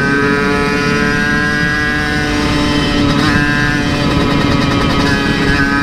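Motorcycle exhaust droning loudly and steadily up close while riding, a dense continuous engine roar with slight rises in pitch, no talk.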